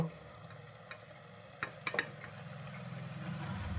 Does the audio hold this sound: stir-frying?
yes